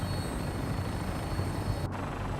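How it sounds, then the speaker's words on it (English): A helicopter flies in Fallout 4, heard as a steady, loud rotor and engine drone that fills the whole clip without change, with no talk over it. "we're on a helicopter"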